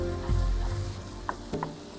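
Ground cumin and coriander being stirred in a hot pan give a steady low sizzle, with a few scraping stir strokes near the end, close and fairly loud with no talking.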